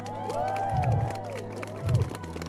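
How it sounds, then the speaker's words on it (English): A crowd of players at a vampire LARP in Texas cheers and claps, with rising whoops and shouts over a bed of scattered applause and a couple of heavier bursts of noise. "So give yourself a round of applause."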